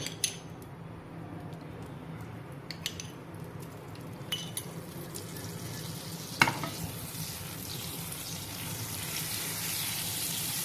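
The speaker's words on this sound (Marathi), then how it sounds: "आता आपण हे बटाटे ग्रिल करून घेऊया गॅसवर पॅन ठेवला आहे त्यामध्ये घालूया बटर" Potatoes grill in butter in a pan on a gas stove, giving a faint, steady sizzle broken by occasional scrapes and clinks of stirring, with no talk.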